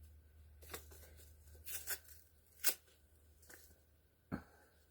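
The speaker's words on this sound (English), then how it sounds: "I'm having trouble getting the envelope open here." A paper seed envelope being torn and fought open by hand, a few sharp ripping and rustling bursts spaced apart over low background hum.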